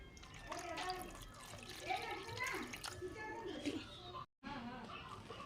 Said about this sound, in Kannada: ಇವಾಗ ನಾವು ಇದಕ್ಕೆ ನೀರು ಹಾಕ್ಕೊಂಡಿವ್ರಿ.